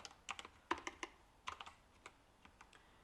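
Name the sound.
typing on a computer keyboard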